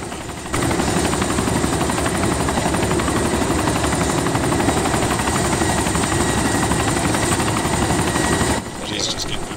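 Helicopter in the DayZ Origins video game, a loud continuous rotor thrum and engine roar that holds steady for most of the stretch, then cuts off abruptly near the end; players talk over it.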